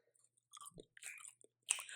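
Bacon gets chewed close up in a few crisp, crunchy bites and soft mouth sounds, quiet and scattered over two seconds with no talking.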